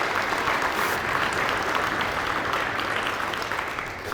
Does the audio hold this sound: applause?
yes